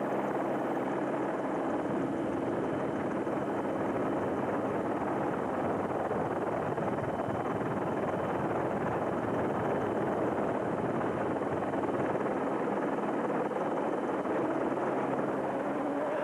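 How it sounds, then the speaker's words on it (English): A medical and TV helicopter's steady, loud rotor roar and engine drone fill the whole stretch without letting up, close by and with no voices, over the Sun City 400 race in 2003. "enjoy the bird's eye view from the Kopanong Hotel Medical and TV helicopter"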